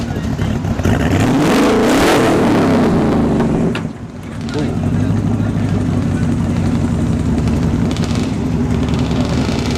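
At a dragstrip test-and-tune session, a Ford Lightning in the right lane launches and roars down the track, its engine note climbing loudly then dropping as another car's engine drones on, with commentators talking over it.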